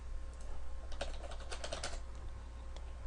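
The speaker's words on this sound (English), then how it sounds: "type in download Eclipse" Quick, light clicking on a computer keyboard: a short burst of keystrokes typed close by at low volume over a steady background hum.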